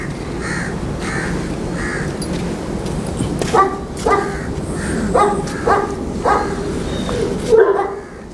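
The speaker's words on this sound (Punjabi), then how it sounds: "ਦੇਖੋ ਕੁੱਤਾ" Bully dogs giving short, repeated barks at close range over a steady background hum, with sharp yelping bursts clustered in the second half.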